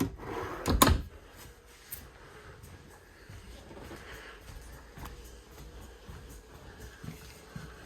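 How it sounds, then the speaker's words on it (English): A drawer slides and bumps shut with a soft thud near the start inside a Cyclone 4014c toy hauler, followed by faint rustling and light handling noises in a quiet room. "Beautiful slides on these drawers."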